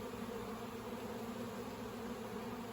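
Honey bees in a nuc hive, shaken in from brood frames, make a dense, steady buzz that fills the space close up without a break.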